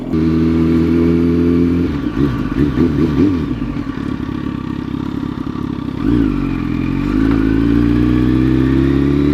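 An old sportbike engine idles close by, then revs up and down in a few swells before settling back to a steady, strong idle, loud with no talking.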